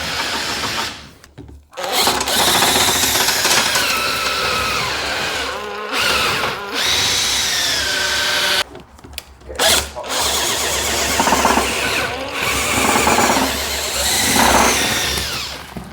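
A power drill spins chimney sweeping rods, running as a loud, continuous whirring motor sound with several short pauses and restarts as each rod is disconnected.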